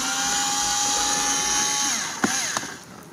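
A Torx 20 bit on a power driver spinning out screws from a Dodge Journey armrest lid, a steady high whine that winds down, followed by a few sharp clicks and taps as the screws come free.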